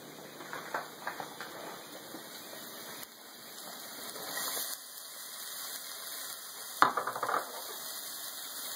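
Green onions, olives and garlic sizzling in a pan while cooking garlic mushroom chicken, a soft steady crackle with a few faint stirring clicks and scrapes, no talking.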